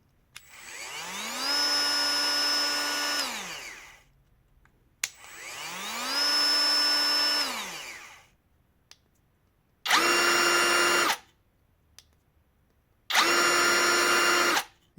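Two Parkside Performance PPAKF 12 A1 cordless edge routers run one after another, each motor whining up to speed and spinning down twice; the first ramps up slowly, the second starts abruptly with a harsher, louder buzz, separated by silence.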